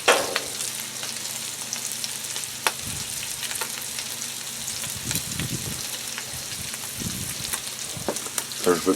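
Potatoes fry in olive oil on a flat griddle plate, a steady broad sizzle crackling throughout with occasional stirring and scraping, close and fairly loud.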